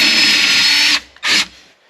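A power drill whines loudly at close range as it bores off rivet heads to remove a speaker from a VW Golf, one long burst followed by a short second burst, then quiet.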